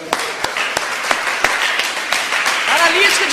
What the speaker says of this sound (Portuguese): Você pode bater palmas para Jesus Cristo?